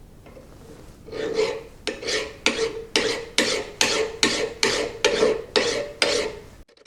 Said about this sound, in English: So I'm going to get my file out. I'm going to see if I can clean this face up some.